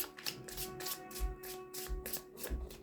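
Close, quiet riffling of tarot cards being shuffled, repeated soft flutters in an even rhythm with a faint hum underneath.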